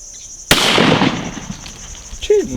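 A single loud, close gunshot cracks out while hunting birds in Senegal, its blast decaying over about a second, followed by faint rustling and a brief voice.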